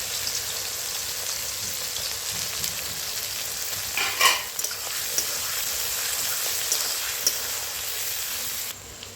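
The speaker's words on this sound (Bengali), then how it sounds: "তেলের মধ্যে পেঁয়াজ কুচি দিয়ে দেবো" Four medium onions, chopped, sizzle in hot oil with a continuous bright hiss, swelling into a brief louder crackle midway before settling back to an even fry, close up and without speech.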